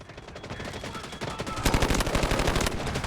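Rapid automatic AK12 rifle fire in the shooter game Delta Force, a fast rattling stream of shots that grows louder and denser about halfway through.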